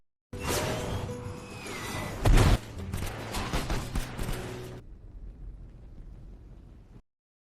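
An action-film shootout with rapid bursts of gunfire, whooshing rockets and one heavy blast, loud and dense for about four seconds before fading to a quiet rumble.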